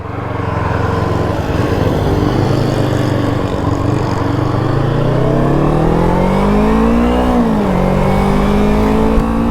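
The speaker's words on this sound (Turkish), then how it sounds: "bunda makine sesinden çok egzoz sesini duyuyorsunuz" An Arora GP250 twin-cylinder motorcycle engine drones loudly and close, its exhaust note climbing steadily in pitch as it revs up.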